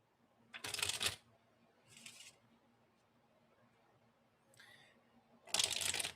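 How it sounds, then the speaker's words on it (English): Tarot cards being shuffled by hand in four separate bursts, two of them louder and longer, with quiet pauses between them and no talking. "now I like to think about the question while I shuffle again."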